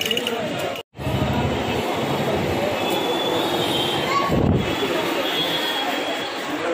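Mumbai train ride: steady loud rumble of a moving carriage with wheel noise and clatter, a brief squeal-like tone, with people talking in the background.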